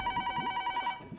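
A telephone rings close by, a rapid trilling bell pattern that repeats steadily for about a second before it stops.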